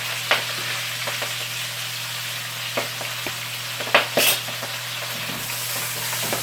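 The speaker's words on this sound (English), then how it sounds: "make sure your kale is pretty dry because it's still going to pop" Kale frying in a hot pan with pearl onions: a steady, dense sizzle with scattered sharp pops and a few louder crackles, close and fairly loud, with no voices.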